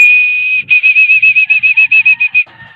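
Racing pigeons diving in after a training toss, a close burst of rapid rhythmic wing flaps with a whistling tone over the wingbeats, loud and brief.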